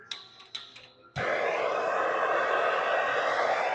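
A torch flame roars steadily while heating a brake rotor on an S197 Mustang, starting abruptly after a second of quiet clinks and continuing as a loud, broadband hiss to the end.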